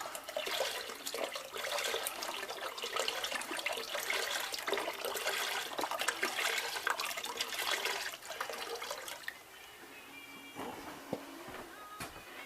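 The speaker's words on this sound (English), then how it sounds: "I just rinse the bottle out with water, or a box in this case." Water runs and splashes steadily while a chicken broth carton is rinsed out, a continuous broadband gush that tapers off toward the end, leaving quieter trickles and small knocks.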